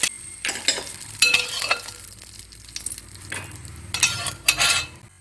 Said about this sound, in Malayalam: അണ്ടിപ്പരിപ്പ് ഇട്ട് കൊടുക്കാം.